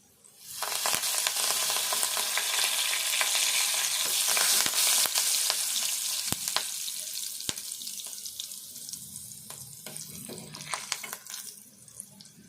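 Curry leaves and tempering spices hitting hot oil for a chukkakura and moong dal curry: a sudden loud crackling sizzle that gradually settles, with scattered sharp pops, close by and no speech.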